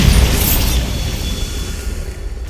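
A Bombarda blast spell going off in Hogwarts Legacy: a loud, close boom with a sharp crackling onset that settles into a heavy, fading rumble, no speech.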